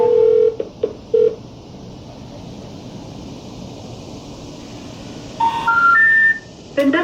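Touch-tone telephone keys being dialed outdoors by a lake, a few short tones near the start and a quick run of several more toward the end, with steady wind and lapping water behind them.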